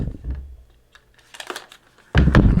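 A knife slicing through a cardboard product box for a Mars Mini HD projector, heard as a few quiet scraping and tearing strokes with small crinkles, ending in a louder rustling burst.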